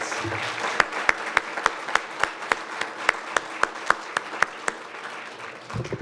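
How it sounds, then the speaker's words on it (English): An audience at an afternoon scholarship awards ceremony applauds in a steady, even round, with a crisp regular beat of loud claps standing out over a soft spread of clapping from across the room. "You deserve a special round of applause."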